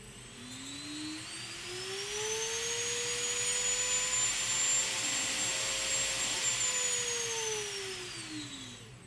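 The electric motor and propeller of a green 3D printed RC plane spin up into a rising whine, hold a steady high-pitched hum, then wind back down, fairly faint and alone without speech.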